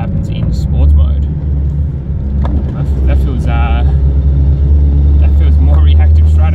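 A car fitted with a throttle controller in sport mode pulls hard in second gear up toward 2000 RPM, its low engine drone rising steadily and loud beneath someone talking.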